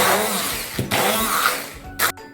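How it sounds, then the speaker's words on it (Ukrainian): Immersion blender pureeing chopped orange for cherry jam, a steady loud motor whir throughout with brief surges in pitch as the blade bites, heard close with no talking. "І тепер погружним блендером нам потрібно наш апельсин перебити."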